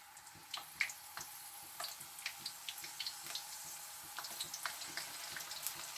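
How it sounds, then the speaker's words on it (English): White onions frying in hot oil, a quiet, close crackle with scattered small pops and spits ticking irregularly over a soft hiss, with no voices. "So the first thing I would do is fry some of my white onions."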